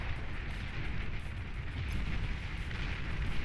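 A Tsar unit is blown apart in the strategy game Beyond All Reason, a dense, rumbling wash of explosions and artillery-like booms rolling on continuously at moderate volume without speech.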